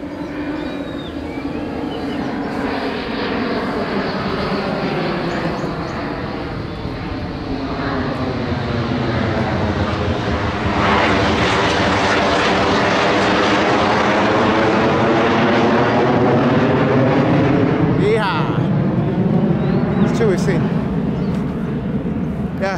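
An F-15 Eagle military jet passes overhead near a small island off Singapore, a loud, broad roar swelling to a peak at mid-clip with a sweeping pitch shift, then slowly fading away.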